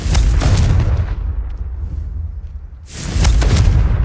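A Confringo blasting spell exploding in Hogwarts Legacy, two heavy booming bursts separated by a brief lull, deep and loud with rumbling low end.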